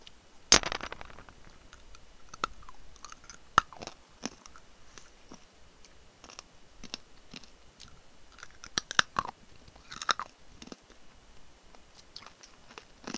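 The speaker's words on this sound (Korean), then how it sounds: "사탕 먹고 있었어요" Someone eating candy between gaming moments, with crisp crunching and chewing clicks scattered irregularly across the stretch, close and fairly quiet, with no talking.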